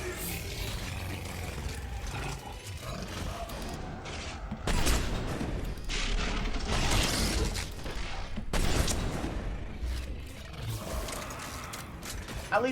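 Black Widow sniper rifle shots from Mass Effect 3, sharp loud bursts hitting a few times among clattering mechanical combat noise, with little talk.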